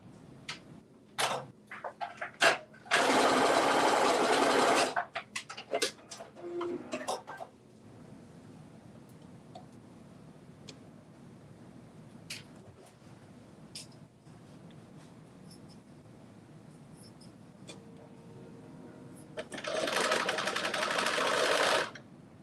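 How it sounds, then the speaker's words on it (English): A sewing machine stitches a 5/8-inch seam with a regular straight stitch in two loud, steady bursts, one near the start and one near the end. Between them come soft handling clicks and a quiet stretch of room tone. "So I aligned it with my back seam, and I think I'm ready to stitch"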